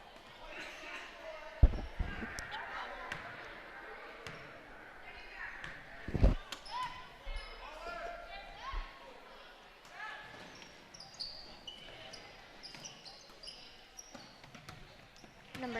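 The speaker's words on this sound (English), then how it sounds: "The ball bounces around." Basketball bouncing on a gym court during a junior high boys' game, with a few sharp thumps standing out over steady crowd noise and a commentator talking.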